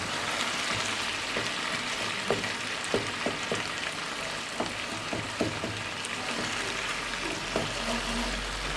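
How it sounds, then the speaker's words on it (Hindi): Chicken karahi with tomatoes sizzles and fries steadily in a pan while being stirred, with scattered clicks and scrapes of the spoon over the constant hiss; no one talks. "अब टमाटर को अच्छे से मिक्स कर लेंगे।"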